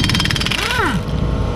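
A pneumatic impact wrench rattles loudly and rapidly on the wheel nuts of a 2016 Chevrolet Cruze, a short close burst that then winds down with a falling whine.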